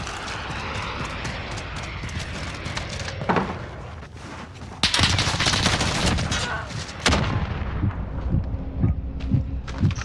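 Gunfire in Call of Duty: Modern Warfare (2019), a multiplayer Domination match, with bursts of automatic fire and sharp single shots, some loud and close and some farther off, mixed with battlefield noise and radio chatter.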